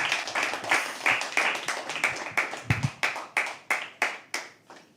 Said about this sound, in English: Yeah, keep clap a little more. Clap.